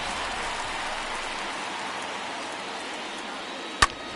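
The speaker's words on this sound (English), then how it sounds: "This rain is not letting up." Steady, dense rain pours down during an Atlanta Braves baseball game, a continuous even hiss with a single sharp click near the end.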